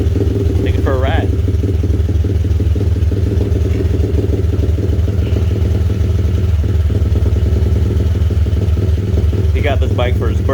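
X-Pro Storm 125cc four-stroke dirt bike being ridden, a loud steady engine drone with rhythmic chugging, heard close to the microphone with a voice speaking briefly over it.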